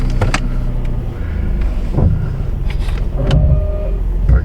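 Ford Edge power window motor whirring steadily over a continuous car cabin hum, with a few brief clicks and thumps along the way, close and fairly loud.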